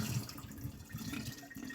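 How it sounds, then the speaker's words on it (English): Rinse water poured off sprouting seeds through a screen lid on a jar, a steady close splashing trickle that runs the whole time with small surges. "Fill them up with water. You put the lid on and then you just pour it off."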